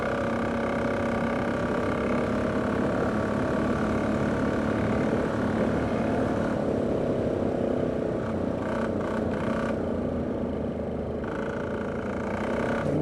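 A Polaris Diesel 455cc ATV engine held at full throttle, a loud, steady, droning roar heard close and continuously while riding, with slight wavering in pitch.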